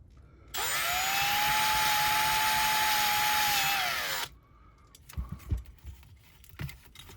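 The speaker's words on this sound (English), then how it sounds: "let's get these rivets drilled out." A power drill whines steadily for about four seconds while drilling out rivets on a Dinky Toys 152 Austin Devon diecast car, then stops, followed by a few light metallic clinks and handling sounds.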